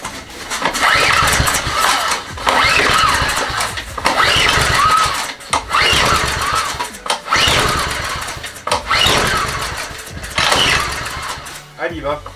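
Honda HR17 lawn mower that had trouble starting, pulled repeatedly: several rough bursts of engine sputter separated by short pauses, loud and close, with people speaking over it.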